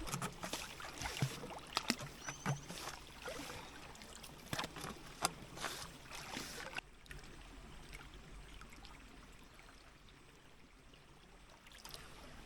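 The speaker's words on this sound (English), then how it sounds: "So I'm just going to yabby pump this." A yabby pump sucks up gravel and water at a gold mine for panning, giving a close, wet gurgling and sloshing with irregular strokes, louder at first and then settling into a softer steady trickle.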